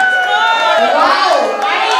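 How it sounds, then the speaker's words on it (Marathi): Wedding sangeet audience applauding and cheering in a hall, a dense wash of clapping with shouts over it, loud and close throughout. "जरा जोरदार टाळ्या"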